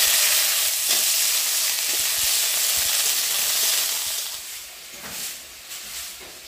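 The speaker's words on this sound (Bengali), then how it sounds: "চলো এবার সিমগুলো দিয়ে দেই।" Flat beans drop into a hot wok and sizzle with a loud, broad hiss that gradually softens, with a few light stirring knocks near the end.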